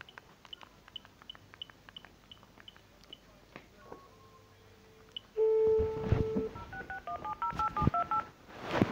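Phone dialing tones while calling, a quick run of soft key taps followed by a series of clear beeping touch-tones, then louder mixed tones and rustling near the phone.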